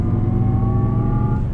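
A 2019 Jaguar I-Pace electric SUV accelerates hard, giving a steady rising electric whine over loud road and tire rumble, heard from inside the cabin with no talk.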